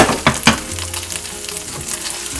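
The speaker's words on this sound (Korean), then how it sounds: "윗부분이 노릇해지면 뚜껑을 열고 반죽을 뒤집어주세요." Tuna and cabbage pancake batter fries in a pan over medium-low heat, a loud close sizzle with a few scraping, clattering handling sounds near the start.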